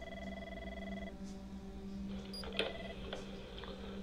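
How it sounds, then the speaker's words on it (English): A telephone rings faintly in a scene from the Five Nights at Freddy's movie, its tonal bell sounding over a low background hum with a few soft clicks. "The phone's ringing."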